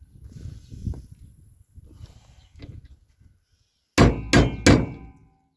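A hammer taps a U-joint bearing into a vehicle drive shaft yoke: a few soft knocks at first, then three loud, sharp metallic clangs in quick succession, close up.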